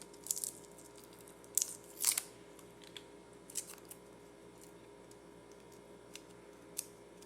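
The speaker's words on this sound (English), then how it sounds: "I'm just going to go ahead and peel the skin off of them." Papery skins being peeled off fresh garlic cloves by hand: faint, close crinkling and crackling in scattered bursts against a quiet kitchen background.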